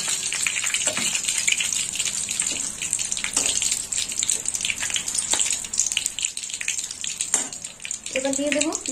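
Bay leaf, whole garam masala, cinnamon and cloves crackle and sizzle in hot oil, a steady close bright hiss with scattered pops and a few brief clinks near the end.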